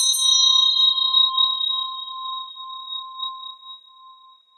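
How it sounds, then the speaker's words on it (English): A single bell strike rings out clearly, a bright metallic attack followed by a pure, sustained tone that slowly fades over several seconds, alone in a quiet room. "Now it is time to ring the bell and bring it all together."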